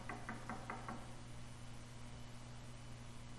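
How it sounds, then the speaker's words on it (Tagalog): Five sharp knocks on a cottage door land in a quick, evenly spaced burst at the start, then stop, leaving a steady low hum and background hiss. "Pagkatapos kumatok siya."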